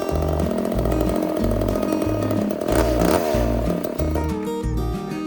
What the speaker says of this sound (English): this saw wants to spin the chain when idling